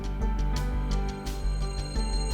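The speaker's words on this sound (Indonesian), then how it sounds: "Aku akan telepon dia sekarang." A telephone rings on an outgoing call with loud, steady, repeating electronic ring tones, heard alone without any voices.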